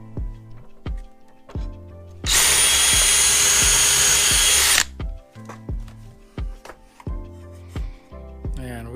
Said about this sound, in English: we've drilled all the holes.